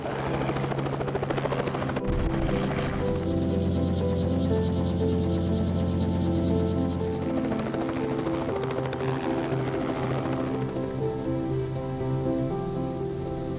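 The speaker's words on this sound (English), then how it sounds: "we want to launch a helicopter here" Helicopter starting up and launching for bighorn sheep capture in cold Badlands conditions, its turbine whine and rotor thump building into a loud, steady, close drone with rising tonal hum.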